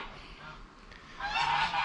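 Geese honking, a faint call early on, then a louder burst of harsh, repeated honks near the end.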